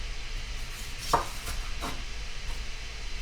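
A knife cuts onions into big pieces on a board with a few sparse, soft chops, one sharper thud followed by lighter taps, heard close and quiet with faint room noise.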